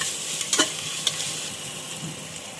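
Ingredients for mushroom biryani sautéing in oil, a steady low sizzle with a couple of brief scraping stirs near the start, close and fairly quiet, no voices.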